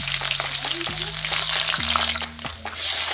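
Garlic frying in hot white oil in a wok, a loud, steady broadband sizzle running throughout with a low tonal hum underneath, no voices.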